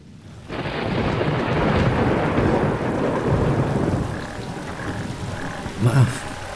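Heavy rain pours steadily with deep rumbling thunder in a horror story about mountain climbers, the downpour loud and continuous, croaking frogs faintly audible, and a sharper rumble swelling near the end.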